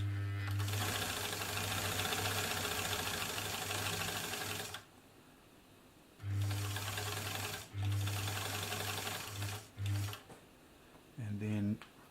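Elna Supermatic sewing machine with an automatic buttonhole attachment stitching a buttonhole, a loud steady mechanical whir in long runs broken by short pauses and brief restarts.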